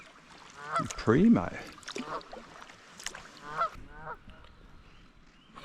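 A honking bird, goose-like, calls beside a creek and sand beach in the New Zealand wilderness while reuniting with two chicks. A few loud, close calls come in bursts, with someone talking over them.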